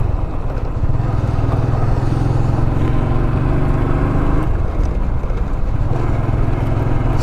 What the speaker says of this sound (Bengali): আমি এই বাইকটার ব্যাপারে যদি বলি, দীর্ঘ 4 বছর যাবৎ আমি বাইকটা ইউজ করতেছি, রাইড করতেছি।